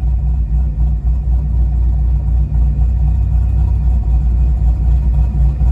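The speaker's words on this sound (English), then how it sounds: "that's the idle in the car, all that shake" A car engine idles in a home garage, giving a loud, steady low rumble with a shaking, rough vibration throughout and no talking.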